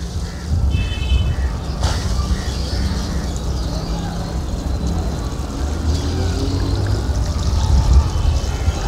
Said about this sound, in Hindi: आप एक शावरिंग टूल से जब पानी डालते हैं पौधे में